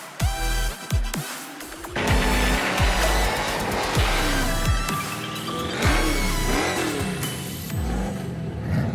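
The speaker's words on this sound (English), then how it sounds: "my ultimate favorite, 1970 Cuda, factory sublime green big block car" A 1970 Plymouth Cuda in factory sublime green with a big block engine revs hard, rising and falling in repeated loud, near pulls with a brief tire squeal, heard alone without talk.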